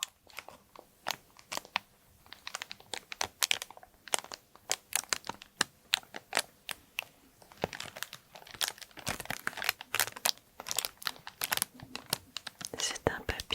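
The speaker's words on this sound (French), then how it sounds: "du coup il est un petit peu plus craquant, crinkly, que le papier plastique classique." Thin, crinkly wrapping paper from an unboxing being gently handled close up, giving irregular soft crackles and crisp rustles throughout, with a quiet, whispery voice talking underneath.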